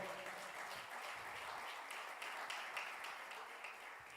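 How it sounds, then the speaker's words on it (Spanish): A church congregation claps in praise during a Spanish-language sermon, a steady, dense wash of hand-claps filling the room, fairly distant and even throughout. "Le da palmas de alabanza al Señor."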